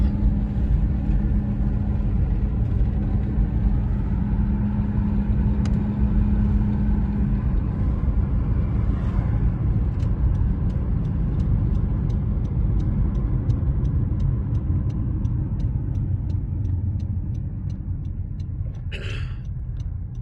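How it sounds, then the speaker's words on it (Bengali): Steady low road rumble and tyre noise from inside a car cruising along a highway near Orlando, Florida, continuous for the whole stretch with a few faint clicks and a brief rattle near the end, no talking. "এই যে আমার হাজব্যান্ড ড্রাইভ করছে, এই যে হাইওয়ে গিয়েছে"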